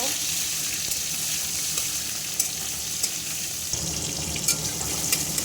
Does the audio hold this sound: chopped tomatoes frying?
yes